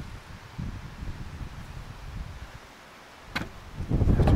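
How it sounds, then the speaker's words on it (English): Gusty wind buffets a microphone on an exposed hillside near castle ruins in Alsace, a steady low rumble with louder gusts swelling toward the end and no voices. "It's so windy now."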